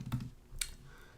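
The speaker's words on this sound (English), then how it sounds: "we're going to start typing the word process." Keys tapped on a computer keyboard while entering a search term in Salesforce setup, a short burst of a few quiet clicks close by, with no talking.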